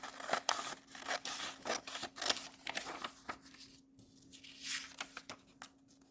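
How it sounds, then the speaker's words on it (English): Scissors snipping through paper worksheet pieces, a quick run of close, crisp cuts with soft rustling between strokes, alone in a quiet room. "the students will cut these out"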